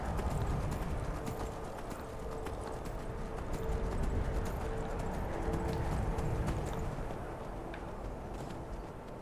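Horse hooves clip-clop steadily in Skyrim, a continuous trotting rhythm over a dense outdoor game ambience, with a brief whinny possible.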